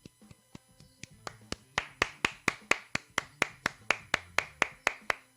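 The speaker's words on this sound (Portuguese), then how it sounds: "Palmas para você, Diniz." Sharp, distinct handclaps in a TV studio, sparse at first and then settling into a steady, even rhythm of roughly three to four claps per second, loud and close with no voices over them.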